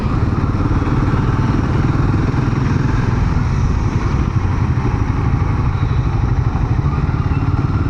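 A motorcycle rides along Delhi NCR roads in the evening, its engine droning loudly and steadily up close, mixed with wind rush and faint road clatter throughout.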